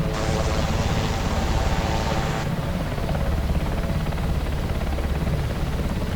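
Sikorsky Sea King SH-3 helicopter landing in the X-Plane simulator, a loud steady rotor and turbine roar with a hissing layer that drops away after about two seconds, no talking.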